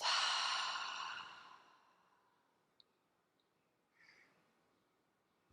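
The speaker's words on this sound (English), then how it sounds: "Take a big inhale. Exhale out the mouth." A long, breathy exhale out through the mouth during calming pranayama breathing, heard up close as it slowly fades into near silence, followed by a few faint small clicks.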